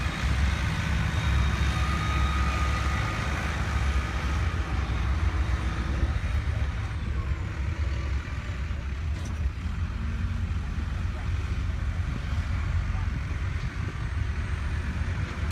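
Two tractors pulling lane-wide implements while grooming a drag strip: a continuous loud, low engine rumble with grinding drag noise, steady throughout and heard at moderate distance.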